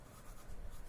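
Pencil sketching car wheels on paper, a soft continuous scratchy rubbing that is close and quiet, heard alone for about a second.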